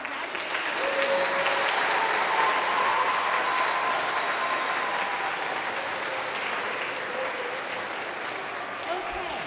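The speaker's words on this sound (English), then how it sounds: "So let's give a round of applause for our graduates." Sustained applause from a school audience at an 8th grade recognition ceremony for graduates, steady and dense throughout with faint voices mixed in.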